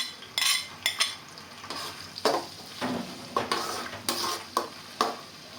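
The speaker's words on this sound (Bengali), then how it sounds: "আমার আদা রসুন আর কাঁচা মরিচগুলো একদম লাল লাল করে ভাজা হয়ে গেছে" Chopped ginger, garlic, onion and green chillies fry in a pan, a soft sizzle broken by repeated scraping stirs of a spatula, about a dozen brisk strokes heard up close with no voices.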